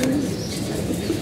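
A pigeon, one being checked for illness and fed glucose and vitamin medicine, gives low soft coos that run steadily through the moment, fairly close, with no talking over them.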